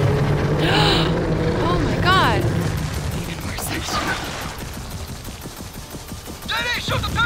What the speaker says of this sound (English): I'm trying to fucking shoot the tentacles.